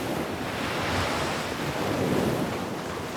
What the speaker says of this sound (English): They saw the vast thundering ocean.